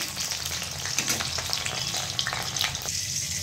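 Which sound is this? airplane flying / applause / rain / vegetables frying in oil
vegetables frying in oil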